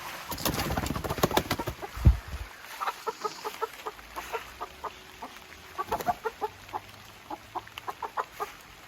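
A hen with pasty butt clucks in a steady run of short, close, rhythmic calls, with a few louder bursts near the start and no talking.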